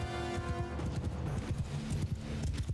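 Horse archers galloping in the medieval battle game Mount & Blade II: Bannerlord, a busy rhythmic clatter of many hooves with battle noise layered underneath.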